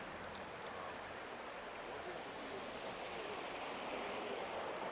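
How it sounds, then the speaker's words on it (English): A small creek running along a hiking trail in the Great Smoky Mountains, swollen by heavy rain and melting snow and ice, gives a steady, close rushing wash of water that holds even and unbroken throughout. "These little creeks"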